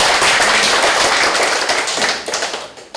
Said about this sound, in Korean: 메시지를 보내주신 모든 분들께 다시 한번 뜨거운 박수 부탁드립니다